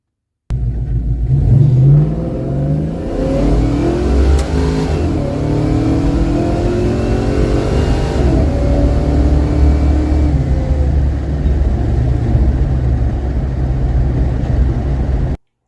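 The engine of a home-built drag car on a test drive revs hard with a loud, close, continuous roar. Its pitch climbs and sweeps through the gears over about fifteen seconds, then cuts off abruptly. No voices are heard.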